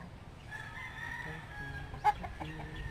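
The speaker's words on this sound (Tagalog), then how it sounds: "May chicken din dito." Chickens cluck and a rooster crows faintly outdoors near a fruiting lanzones tree, with one brief sharper squawk standing out against a steady rural background.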